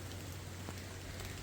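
Rain falls steadily outside a cottage as a faint, even hiss with a low constant hum beneath, and no voices.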